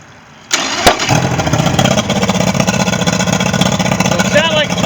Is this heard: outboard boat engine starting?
yes